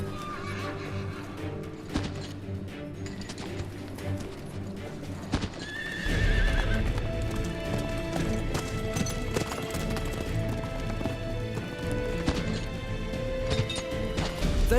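Horses gallop with rapid, heavy hoofbeats that pick up and thunder on, with sharp neighs and whinnies cutting through, plus occasional crashes and clatter in a busy, loud medieval riding scene.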